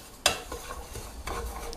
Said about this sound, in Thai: คั่วให้มีกลิ่นหอมเลยครับ